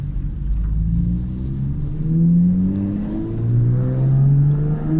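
A car with a lightened flywheel pulls away in second gear at low revs, its engine a low rumbling drone that rises gradually in pitch with a couple of surges, close and loud, no voices.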